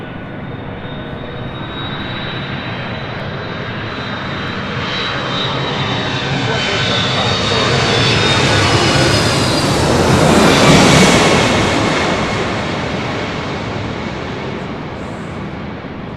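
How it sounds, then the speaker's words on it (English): A Delta Boeing 767-300ER airliner arriving from Honolulu at LAX roars in loud and close, with a high engine whine as it passes overhead, the swell peaking around the middle and then easing away. "This is Delta Airlines 368 coming in from Honolulu on a 767-300ER"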